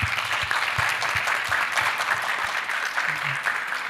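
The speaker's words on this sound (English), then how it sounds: "Let's give her a round of applause." An audience at a youth month dialogue event gives a sustained round of applause, dense and steady clapping filling the room throughout with a faint voice or two underneath.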